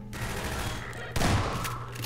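Automated turret gunfire in the video game Half-Life: steady, dense rattling bursts that swell sharply louder midway and continue at close range, with no talk over them.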